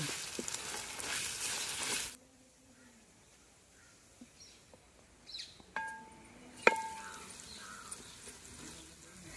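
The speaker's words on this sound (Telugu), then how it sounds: "అల్లం ఎల్లిపాయ పేస్ట్ పచ్చివాసన పోయేదాకా వేపుకోవాలండి" Ginger garlic paste fries in a pan, a loud sizzling hiss at first that drops to a softer frying bed, with occasional stirring clinks and scrapes nearby and no talk.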